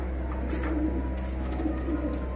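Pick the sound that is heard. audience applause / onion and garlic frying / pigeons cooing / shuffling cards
pigeons cooing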